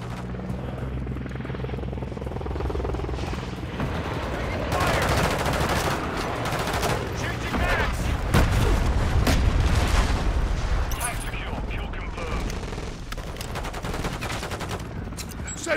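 Video-game firefight with rapid automatic gunfire and booming shots over a constant rotor-like drone, loud bursts clustered in the middle and intermittent cracks toward the end, with players' voices mixed in.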